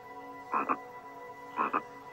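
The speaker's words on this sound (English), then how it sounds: "One night, a curious frog saw this beautiful creature. Overawed by his glowing skin, he croaked loud praises." A frog croaks twice, each call a short doubled burst about a second apart, close and clear against a quiet night background.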